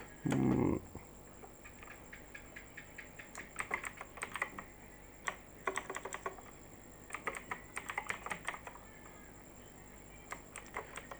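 Computer keyboard typing code, quick irregular bursts of soft key clicks with short pauses, close but fairly quiet, preceded by one brief louder bump and no talking.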